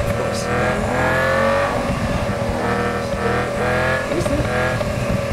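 A racing car engine in a video game on a track with special corners roars loudly and continuously, its pitch rising and falling through revs and gear changes, with a faint tire squeal.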